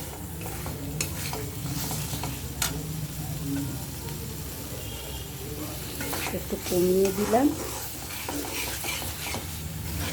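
Shrimp frying with spices in a pan, cooked with pointed gourd and potato: a low continuous sizzle carries repeated stirring scrapes and light clinks, and someone speaks briefly over the cooking.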